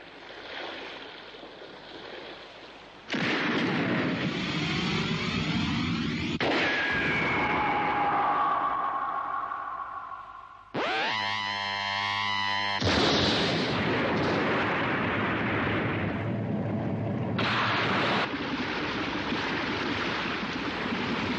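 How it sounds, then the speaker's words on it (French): Cartoon explosion aboard a boat in an animated series: a loud blast hits and sustains in a roaring, crackling rumble, then bursts again mid-clip and continues with heavy turbulent noise, with no speech. "Il y a eu une explosion!"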